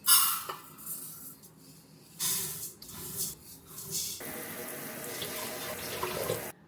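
Tap water runs into a sink for cooking rice. It starts with a few short spurts and splashes, then settles into a steady, close hiss of filling water with no talking.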